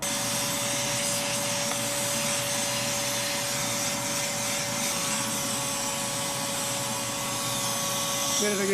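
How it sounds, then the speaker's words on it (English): A vacuum cleaner drones steadily with a constant whine, loud and close, during woodturning of a cedar bowl, with faint movement noises over it. "Vacuum cleaner's running, so I try to shut off."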